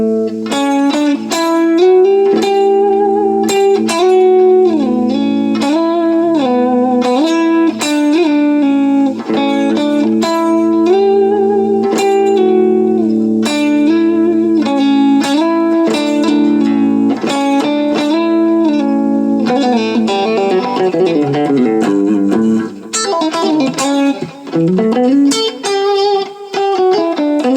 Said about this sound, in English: That's the sound of a Mixolydian scale.